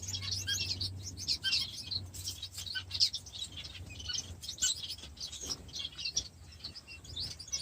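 Aviary-bred Bengalese finches chirp and tweet in rapid, overlapping bursts inside an aviary, fairly close and soft, with a low steady hum underneath and no talking.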